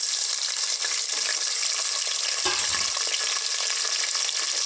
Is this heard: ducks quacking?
no